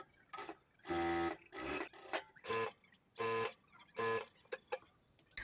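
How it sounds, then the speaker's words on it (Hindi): Bursts of a sewing machine stitching along the folded side edge of a ladies' pant hem: about seven loud buzzing runs of roughly half a second each, separated by short pauses and small clicks, with no talking. "यहाँ पे सिलाई लगा लेंगे तो हमको ये फोल्ड करने में आसानी होगी"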